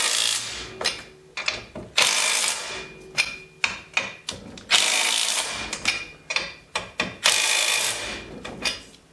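Ball joint bolts being tightened on a 2009 Polaris Ranger 700 XP, with repeated close ratcheting clicks and metallic tool bursts in irregular short runs, alone without talk.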